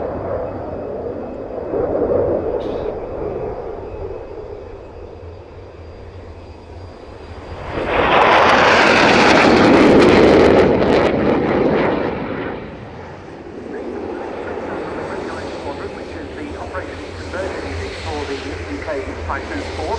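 A Royal Air Force Typhoon FGR4 jet sweeps past in a high-speed pass at an airshow, its roar swelling loudly for several seconds before fading into a lingering rumble, with a commentator's voice heard over the public address.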